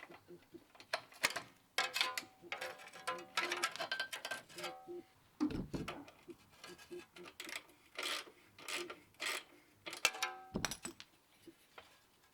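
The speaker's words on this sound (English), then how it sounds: "Now I'm undoing the bolts for the rear muffler box." Bolts on the rear muffler box of a BMW E46 M3 are undone with a ratchet, giving close, faint bursts of clicking and metallic clunks in an irregular stop-start rhythm.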